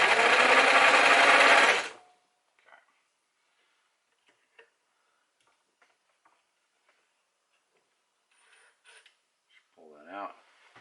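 A sewing machine stitching thin fabric for pants at a 4 mm stitch length, with a loud, close, rapid run of about two seconds, then near silence broken by faint clicks and handling noises and a short voice at the end.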